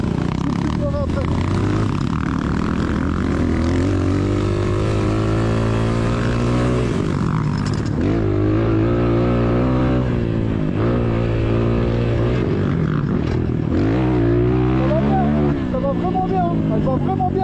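An ERZ Pro 2022 off-road motorcycle riding on slippery dirt terrain, its engine droning loud and continuous with rising and falling revs as the rider works the throttle, with a voice talking over it.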